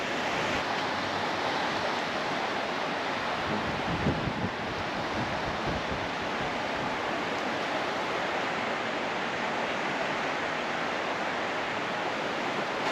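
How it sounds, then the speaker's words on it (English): Strong wind from Hurricane Ian roars steadily into the microphone, a dense continuous rush with gusty buffeting and no voices. "The wind is definitely picking up."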